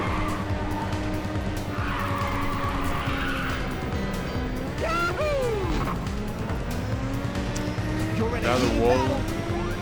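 Game race car from Ridge Racer 2 roaring along with a steady engine drone, then squealing tires and a scraping impact against a wall, with layered whooshes and sliding pitch sweeps, loud and continuous.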